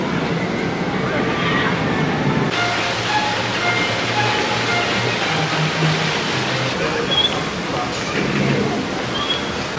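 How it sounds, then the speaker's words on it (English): Rushing, splashing water on a dinosaur rapids raft ride at a theme park, a loud continuous roar with crowd babble and voices mixed in throughout. "Just completed the dinosaur rapids."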